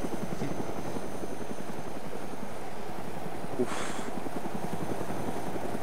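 A helicopter in the video game DayZero thuds with a steady, loud rotor beat that runs through the whole stretch, with a short rushing burst of noise partway through and no talk.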